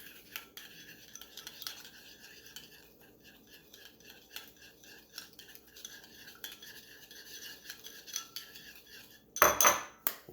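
A spoon stirs and scrapes through a sauce sweetened with brown sugar in a bowl while Thai spicy basil stir-fry is prepared, a soft steady clinking and rubbing, faint and close, ending with a brief louder clatter.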